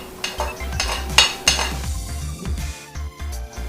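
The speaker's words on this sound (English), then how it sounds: "I'm going to add in my remaining onions." Onions tip into a pot of meat cooking for okazi and waterleaf soup, with a spoon clinking and scraping against the pot and a soft stirring shuffle, close and fairly loud, no talk.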